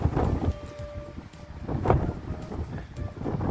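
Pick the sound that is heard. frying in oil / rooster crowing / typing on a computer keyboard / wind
wind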